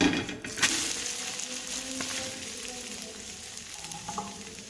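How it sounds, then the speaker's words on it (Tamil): An egg masala dosa sizzles steadily on a hot pan as it is flipped, with a sharp scrape and clatter at the start and then a constant frying hiss close by. "இப்போ தோசை திருப்பி போட்டுக்கிறேன்"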